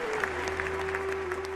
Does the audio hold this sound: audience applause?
yes